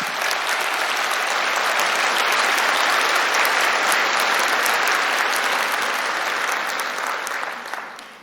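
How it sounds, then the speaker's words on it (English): A conference audience applauds after a talk on adverse childhood experiences, a dense, sustained roar of clapping from many hands that holds steady and then thins out at the end. "I'm glad you've just applauded"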